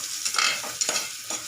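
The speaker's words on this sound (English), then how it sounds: "Till golden brown color, we fry the onions." Onions fry in hot oil with a bright, steady sizzle, broken by stirring scrapes and small pops, close up with no talking.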